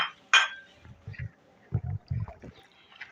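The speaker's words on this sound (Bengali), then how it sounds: "কর্নফ্লাওয়ার দিয়ে স্টোকটা গুলে নেব" Cornflour is stirred into chicken stock in a bowl, with a bright clink of a utensil followed by several soft, quick knocks and swishes close by.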